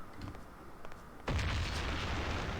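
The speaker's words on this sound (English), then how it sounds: "Throw the grenade right at Sam." A grenade blast in the crime game Mafia: The City of Lost Heaven, a single sudden loud boom that cuts in midway and rolls on as a sustained rumbling roar after quieter ambient game noise.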